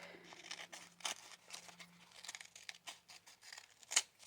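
Paper being torn by hand into small scraps for scrappy pads, a series of short rips and crinkles, close and fairly quiet, with no talking.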